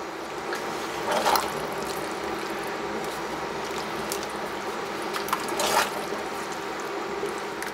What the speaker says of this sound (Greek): Θα προσθέσουμε και νεράκι ίσα ίσα να τα σκεπάσει,